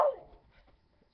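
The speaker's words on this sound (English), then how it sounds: "Oh, look at all the dogs. They're saying hello." Dogs at home giving a single close bark or yelp at the start, which quickly tails off into near silence.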